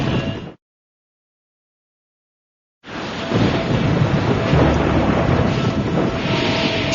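A thunderstorm rolls with a loud rumble of thunder, then a gap of silence, then a sustained roar of rain and wind, heavy and close.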